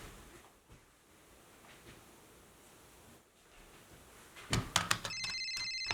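A telephone rings in a woodworking shop, a short burst of bright electronic trilling that starts abruptly near the end after a quiet stretch of faint background hiss.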